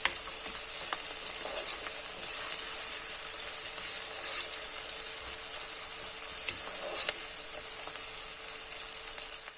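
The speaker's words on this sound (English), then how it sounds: "Allow it to saute until the onions are translucent." Onions sautéing in a pan with cinnamon stick, bay leaves, cumin and fennel seeds for vegetable biryani give a steady, close sizzle with faint stirring clicks, continuous and even throughout, no voices.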